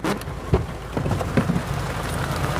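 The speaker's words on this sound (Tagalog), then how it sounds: "Alam ni Ate Annalyn umuulan" Steady rain falling outdoors, a dense continuous hiss with scattered louder patters and drips, fairly loud and close, with no voices.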